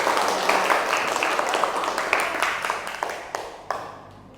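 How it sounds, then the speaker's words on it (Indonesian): A classroom of students applauding together, dense rapid clapping that stays loud before thinning into a few separate claps and fading at the end. "Tepuk tangan dulu ya."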